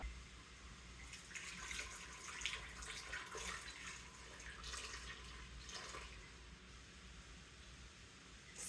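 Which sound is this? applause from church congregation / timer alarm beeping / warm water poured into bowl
warm water poured into bowl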